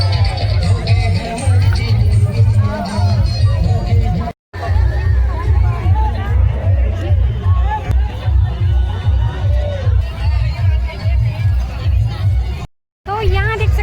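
A large, dense crowd at a Kabir saint gathering procession along a main road in Bodla, Chhattisgarh, a loud, continuous babble of many voices with deep rumbling underneath, close and steady with two brief dropouts.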